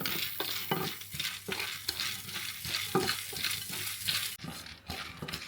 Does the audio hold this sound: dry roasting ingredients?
yes